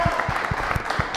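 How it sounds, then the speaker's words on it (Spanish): Audience applause welcoming a guest psychologist onstage at a seminar celebration, a short burst of clapping with rhythmic thumps, moderately loud in a room. "Entonces, un aplauso."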